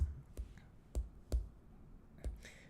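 Computer mouse clicks, four soft separate clicks spaced unevenly a fraction of a second apart, close and quiet against a faint background hush, no speech.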